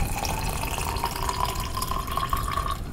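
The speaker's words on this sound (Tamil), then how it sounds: "தண்ணி ஆட் பண்ணிக்கலாம்." Water poured in a steady stream into a container for kulukki sarbath, a sugar-sweetened shaken drink, splashing continuously with a rising tone as it fills, close and alone.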